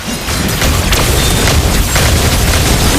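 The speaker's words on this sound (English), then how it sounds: "Your team destroyed the turret!" A turret is destroyed in the mobile game Mobile Legends, a loud, dense booming explosion that fills the whole moment with crashing debris and no voices over it.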